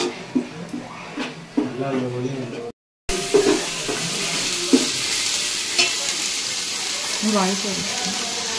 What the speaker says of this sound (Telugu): ఆయిల్ పోసుకొని అందులో ఆనియన్ పేస్ట్, కొంచెం కొత్తిమీర, పుదీనా వేసుకొని ఆ పచ్చివాసన ఆనియన్ పోయేంత వరకు బాగా ఫ్రై చేసుకోవాలి